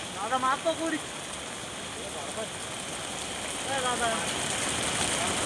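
A loud, continuous roar of a river in flood after heavy rain fills the scene, with a voice briefly speaking over it near the start and again later.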